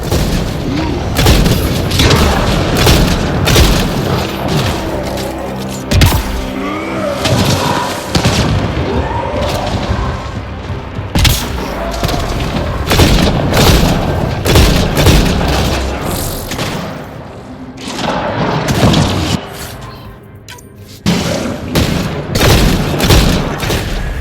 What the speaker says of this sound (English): Exiles, heads up! Watch the grenade!